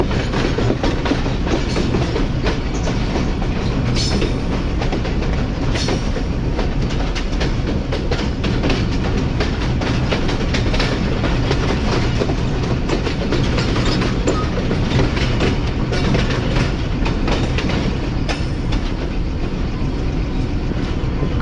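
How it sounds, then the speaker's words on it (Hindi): Subak Raftar railcar rolling toward a station platform, a loud, steady, continuous rumble with rhythmic clickety-clack of wheels over rail joints, heard from on board. "ये ट्रेन प्लेटफॉर्म नंबर 4 की तरफ बढ़ते हुए"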